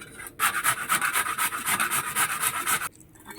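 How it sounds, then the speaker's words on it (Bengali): Ginger is scraped across a grater in quick, rhythmic strokes, a close raspy rubbing that runs for a few seconds before stopping. "আদাটা ঘষে নিচ্ছি।"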